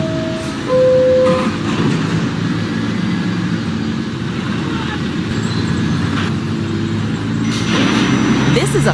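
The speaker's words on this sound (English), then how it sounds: "This is a Coney Island bound B Express train." A New York subway B Express train at Newkirk Plaza station, Brooklyn, its loud low rumble and grinding wheels rolling steadily through the platform, with a brief high squeal near the start.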